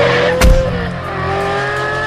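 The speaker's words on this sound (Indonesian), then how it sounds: "ada sepeda motor yang sedang melaju kencang di jalanan" A motorcycle speeding down a street, heard as a loud, steady engine roar with a sharp, brief burst of noise near the start as it rushes close by.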